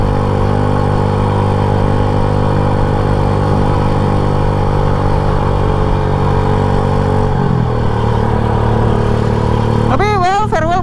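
A classic motorcycle styled like a Jeep rides through traffic in Jimbaran, its engine holding a steady loud drone with a sharp pitch change near the end.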